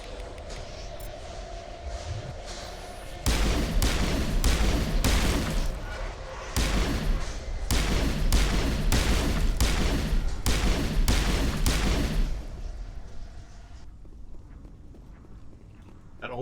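Pistol gunfire in Mass Effect, a fast steady run of loud sharp shots in a long sequence, clipped and close, over faint background game noise.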